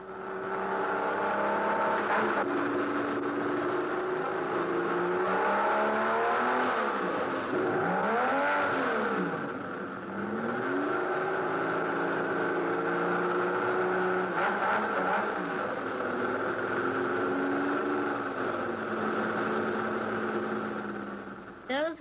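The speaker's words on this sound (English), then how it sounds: "That's a car." A car drives past and revs, its engine pitch rising and falling in repeated sweeps over a sustained close drone, with talking heard at times along with it.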